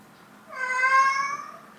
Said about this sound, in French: Elle miaule comme ça depuis que je suis rentrée.